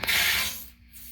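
Water hisses through a slightly cracked faucet stop valve on copper pipe as the supply hose refills, a brief close rush that quickly fades.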